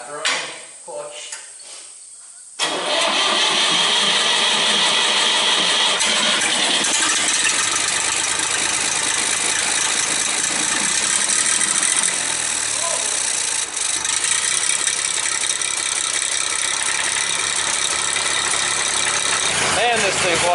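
An old loader tractor engine cranks over, catches and then idles loudly and steadily with a rough rattle, close and continuous for most of the span after a brief sputtering start.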